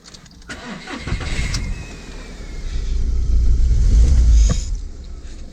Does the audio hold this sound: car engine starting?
yes